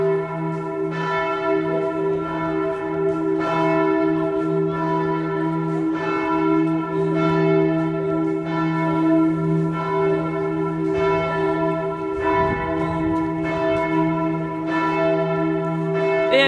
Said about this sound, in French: avec les cloches.